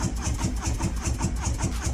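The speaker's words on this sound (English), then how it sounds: "gonna go ahead and cycle the bike" A Harley-Davidson Softail Low Rider S motorcycle engine runs close and steady with a rhythmic, pulsing idle-like throb and no talking over it.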